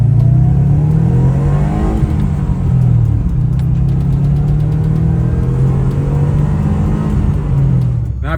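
A Subaru EJ207 engine in an RSTi climbs from a roughly 600 RPM idle into a loud, sustained rev, its steady low rumble rising and falling in pitch with throttle, close and continuous with no talking.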